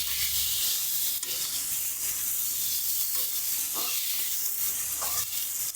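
Potatoes with salt and turmeric hiss steadily in a hot pan, a continuous loud sizzle broken by a few soft scraping strokes as they are stirred, with no voices.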